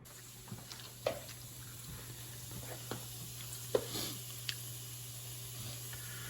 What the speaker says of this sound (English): Then I'll throw my fresh garlic in there